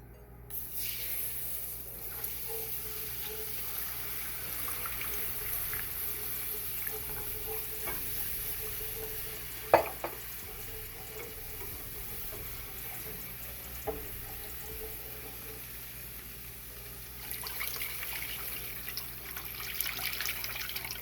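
Chicken broth pours steadily into a flour and oil gravy mixture for smothered ribs, a continuous close liquid splash and gurgle lasting throughout with a few faint clinks.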